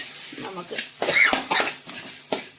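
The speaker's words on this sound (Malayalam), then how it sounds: "പൊടികളെല്ലാം എടുത്ത് വെച്ച് നമുക്ക് നന്നായിട്ട് വഴറ്റി പച്ചമണം മാറുന്നേരം വരെ ഇളക്കി കൊടുക്കാം" Spice powders sautéed in a pan for crab roast, a soft sizzle under repeated scraping and clinking strokes of a utensil against the pan, fairly close.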